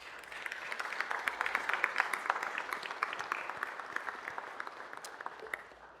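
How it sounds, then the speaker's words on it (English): A city council chamber audience applauds the Los Angeles Fire and Police Veterans Association, a moderate room of individual hand claps audible in a steady crackling patter that tapers off toward the end. "Can we have a round of applause for them?"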